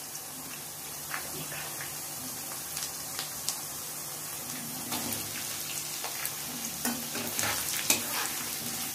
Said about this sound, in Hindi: आलू जो है वो हल्का सा भुना गया है।